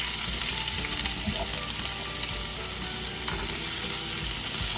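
Chopped onions hitting hot oil in a pan, a loud, steady close-up sizzle and crackle with faint stirring scrapes, sustained evenly throughout with no talking.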